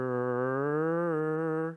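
Single sustained organ pipe note, steady and close, its pitch bending slightly up and down as the pipe is adjusted during tuning, held alone for almost two seconds before cutting off.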